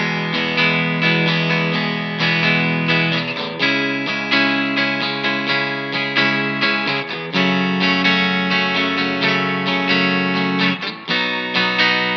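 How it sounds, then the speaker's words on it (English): Electric guitar chords through a vintage Fender-style spring reverb ring out with a wet, splashy tail, strummed steadily and loud, with notes blending into a lingering wash. "It's giving us that nice vintage Fender spring reverb sound."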